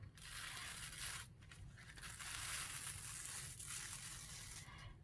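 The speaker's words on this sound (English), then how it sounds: "peel your layers back" Layers of a paper napkin slowly and gently peeled apart by hand, a steady close crinkling, tearing rustle that runs continuously with slight swells and brief dips, no voices.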